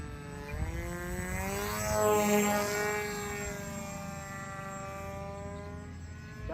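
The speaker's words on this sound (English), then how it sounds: "I'll bring it back so you can see how it's flying. This is like 1/4 throttle right now." Hobby Assassin RC flying wing passing overhead at quarter throttle, with a steady whining motor hum and a propeller buzz that bends in pitch as it flies by. The sound swells near the middle and then fades slowly.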